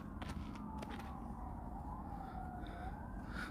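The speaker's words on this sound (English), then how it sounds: "I hear the sirens." A faint wailing emergency siren rises and falls in the distance over steady low traffic rumble and background noise, continuous throughout, near a riverbed fire in Bakersfield.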